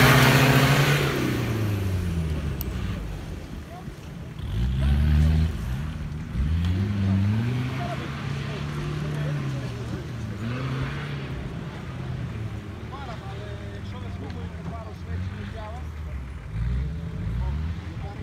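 Two closely matched race cars, one a Toyota, rev their engines at a rough survival-style race, with repeated rising and falling engine sweeps close by and steady under a commentator's talk.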